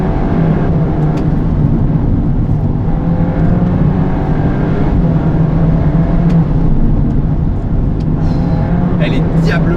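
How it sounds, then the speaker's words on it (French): A Volkswagen Golf 8 R with 320 hp drives with its engine sound set to pure mode, giving a loud, continuous, humming drone that stays close and steady throughout. "Et donc, tu as le vrai son de la voiture."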